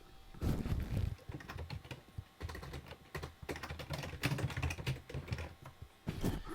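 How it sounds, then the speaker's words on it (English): Typing on a computer keyboard while entering a note title, a quick irregular run of key clicks and taps that continues steadily through the clip, close and fairly clear, with no talking. "To give it a title, simply click on the Untitled and type a title in."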